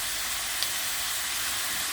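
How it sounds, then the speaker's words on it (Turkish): Minced meat and finely chopped onion fry together in a pan, a steady close hiss of sizzling that runs without a break and without any voices. "soğanım eriyip yumuşayana kadar ikisini birlikte kavurmaya devam ediyorum"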